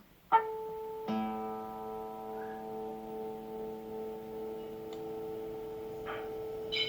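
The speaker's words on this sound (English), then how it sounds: "I tune the fifth string until I can hear that note" A single plucked guitar note rings and sustains while the fifth string is tuned, then another string is plucked and rings out together with it, quiet and steady with faint clicks.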